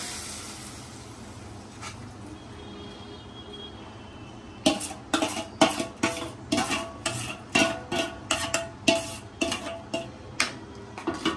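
A utensil stirs fried vermicelli into thickened milk in a pot for semai payesh, first quiet, then turning to a steady series of close, distinct clinks and scrapes against the metal roughly twice per second.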